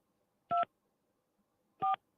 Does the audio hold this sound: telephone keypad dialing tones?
yes